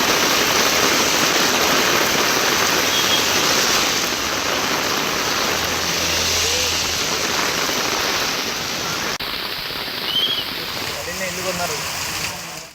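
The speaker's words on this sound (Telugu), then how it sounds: "హైదరాబాద్ లో మళ్లీ భారీ వర్షం కురుస్తోంది" Heavy rain pours down in Hyderabad, a loud dense roar of rainfall that holds steady and then eases slightly near the end.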